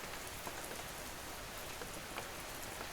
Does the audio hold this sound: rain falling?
yes